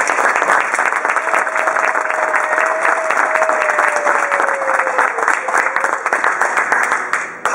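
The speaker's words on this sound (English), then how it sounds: "let's get a round of applause to kick things off" Loud, sustained audience applause at a NASDAQ opening bell ceremony in Times Square, New York, dense clapping with a cheer or whoop carrying over it before it thins out at the end.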